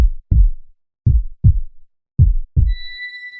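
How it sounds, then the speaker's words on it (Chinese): Slow, close heartbeat thumps in paired lub-dub beats, repeating steadily with silence between, and a faint thin high tone near the end. "听到了吗？ 你的心跳。"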